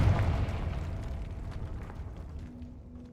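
Confringo fire-blast spell cast in Hogwarts Legacy inside an old catacomb: a loud, rumbling burst that starts strong and slowly fades into a dull roar, with no voices over it.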